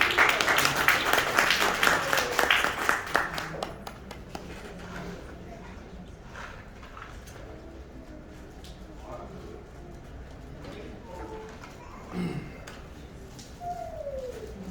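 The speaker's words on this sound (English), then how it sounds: "Give them a round of applause." Audience applause at a wealth-building seminar, a short burst of clapping and cheering that fades after a few seconds into quiet room tone with scattered voices and small noises.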